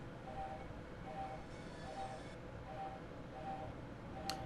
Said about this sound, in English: I really do like the sounds Armstrong Powerhouse has made for the 465s.